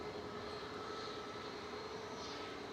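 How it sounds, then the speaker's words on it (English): A Qatar Airways airliner taxiing at Manchester Airport, a steady, distant engine hum and whine, faint and unbroken with no voices. "Qatar is taxiing over"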